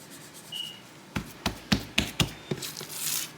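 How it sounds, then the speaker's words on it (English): Hands patting seasoned salt onto a pork belly before smoking, a run of about seven soft, close slaps spaced fairly evenly, with faint rubbing between them. "Again, you don't see me rubbing, you see me patting."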